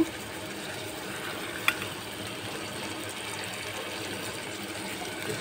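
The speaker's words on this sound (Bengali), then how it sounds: "আর একটু জল দেব, বাটি ধোয়া জলটা দিয়ে দেব" Water from rinsing a bowl is poured into a pan of hilsa fish curry with taro and potatoes, giving a quiet, steady watery rush and gentle sizzle with a single sharp clink early on.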